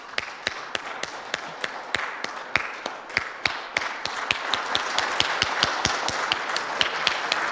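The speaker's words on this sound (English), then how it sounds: "And the rainstorm's getting bigger, we'll clap." Many hands clapping in a fast, steady patter that builds and thickens into a dense, rain-like wash of sound.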